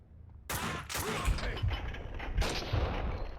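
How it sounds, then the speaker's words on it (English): Gunfire in Max Payne 2 during a slow-motion shoot-dodge near an elevator: a sharp loud shot bursts in, then several more reports follow in quick succession with booming low-end rumble and echoing tails. "What I'm going to do is I'm going to shoot my gun, so I have 3 bullets left."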